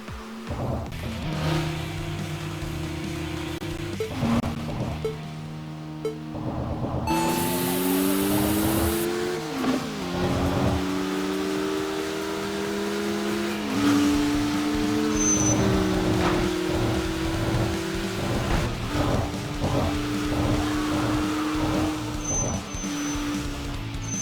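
Cars racing at night in Tokyo Xtreme Racer, steady engine drones rising and shifting pitch through gear changes as two cars run side by side, continuous and fairly loud.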